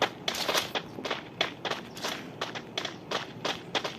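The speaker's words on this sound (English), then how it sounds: "we can hear his footsteps" A video game character's footsteps approach in a steady rhythm of about a dozen crisp steps, moderately loud and fairly close, with no speech over them.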